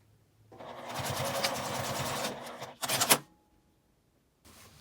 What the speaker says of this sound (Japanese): 半分に折ってこの真ん中のところに5ミリぐらいの縫い代で仮縫いしておきます。